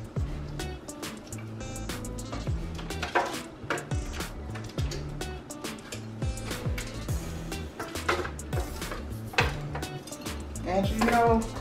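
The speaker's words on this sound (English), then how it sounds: "Just gonna add our onion in there." Onions tipped into a pot for oxtails, with clattering metal utensil knocks and scraping against the pot, a rhythm of sharp clinks over a low background hum.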